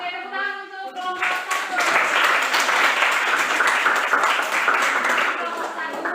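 A classroom group claps for group 1 after a presentation on micrometers, brisk applause building after a teacher's voice at the start and continuing steadily to the end.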